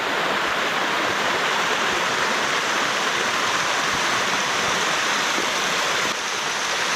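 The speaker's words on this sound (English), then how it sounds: "it's a pretty big waterfall." Big waterfall roaring from the top edge on a road trip near Pueblo Bello, a loud, dense, unbroken rush of falling water with no talk.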